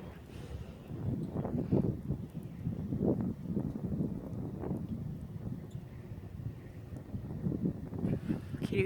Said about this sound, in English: Can you hear that wind whipping?